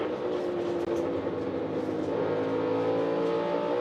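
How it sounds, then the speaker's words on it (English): A NASCAR Cup Series stock car engine at Bristol Motor Speedway drones steadily as the driver eases off the throttle on corner entry, a loud, continuous broadband roar with no break in the noise throughout. "Now listen to how much Ty Gibbs is out of the throttle on the entry right now."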